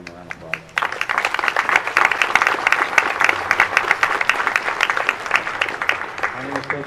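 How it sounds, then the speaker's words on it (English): A ceremony audience applauds a fire department honor guard at a September 11 memorial event, dense steady clapping rising quickly and holding strong before tapering slightly, with a voice briefly heard at the start. "Give them a round of applause"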